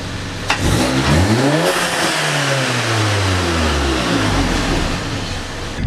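A car engine fitted with a RacingLine intake revs hard and loud, pitch sweeping up and down, with a whooshing turbo hiss over the roar.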